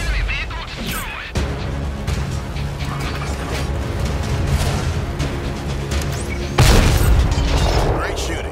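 A tank is destroyed in World of Tanks with a heavy booming blast and crashing debris, loud and close amid continuous rumbling battle noise, while a voice speaks over the action.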